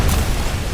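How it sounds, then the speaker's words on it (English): A grenade explosion in the video game RoboCop: Rogue City, heard as a short, loud, dense burst of broadband rumble that fills the brief moment with no clear onset or tail. "Grenade."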